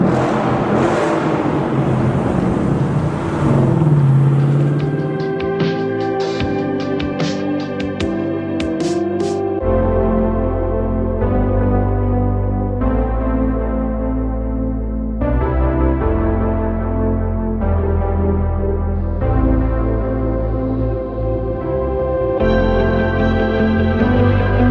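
A straight-piped Ford Mustang GT 5.0 V8 drones loudly from inside the car on a canyon drive, its exhaust climbing and dropping through gear changes in a sustained roar, with no talking.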